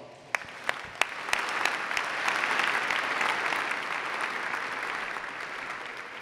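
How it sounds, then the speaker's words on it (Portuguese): Warm, steady applause from an audience at a solemn session awarding the Tiradentes Medal, a few sharp individual claps at the start swelling into a dense, sustained ovation that fills the hall. "eu peço agora, para todos que estão aqui, uma calorosa salva de palmas para o Mauro."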